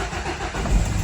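Nissan NV200 van with a 1.5 dCi diesel engine turning over and catching after a filter service, a short close rumble rising at the end, with no voices.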